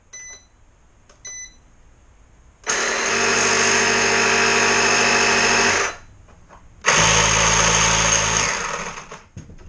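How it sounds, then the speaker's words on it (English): The air compressor on a DeWalt JumpStart pack runs in two loud, steady buzzing bursts of about three seconds each, separated by a short pause, preceded by a few faint clicks. "So that is the air compressor there."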